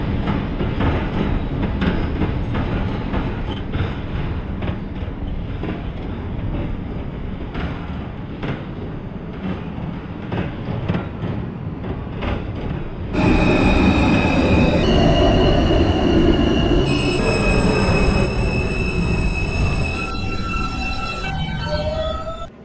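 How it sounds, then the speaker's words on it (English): An R160A Alstom New York subway train on the Q line, simulated in the OpenBVE train game, rumbles loudly along, then brakes with bright, layered wheel squeals and tonal whines rising over the roar near the end. "This is a Coney Island bound Q local train."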